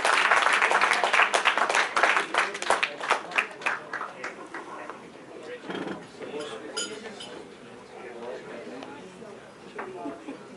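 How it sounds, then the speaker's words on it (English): At an annual cricket club awards dinner, a round of applause rises then fades among diners, with clinking glasses, cutlery and dishes, and voices talking in the hall afterward. "Round of applause for"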